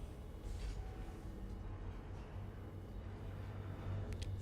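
Train running in the factory-building game Satisfactory, a low steady rumble and hum of rolling rail cars with faint higher clicks and squeals over a few seconds.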